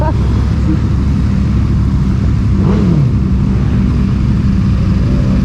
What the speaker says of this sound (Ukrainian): У нього ще дуже приємний вихлоп